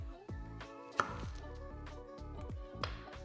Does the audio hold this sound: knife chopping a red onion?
yes